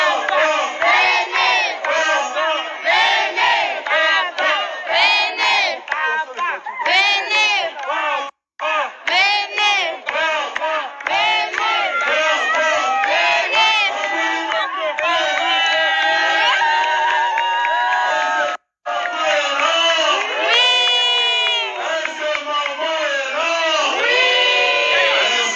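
Children shouting and crowd noise at a birthday party, a dense, loud, continuous mass of excited young voices with whoops and cries, broken only by two brief dropouts.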